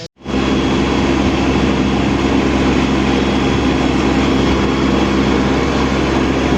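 A new Kubota tractor's diesel engine drones loudly and continuously with a low rumble and hum, unchanging throughout, no voices.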